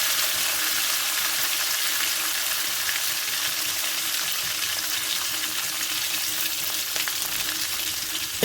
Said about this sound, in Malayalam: നമ്മുടെ കടുക് പൊട്ടി വെച്ചിട്ടുണ്ട്.